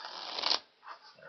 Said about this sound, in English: try to shuffle the cards at least 4 times to make sure they get all mixed up.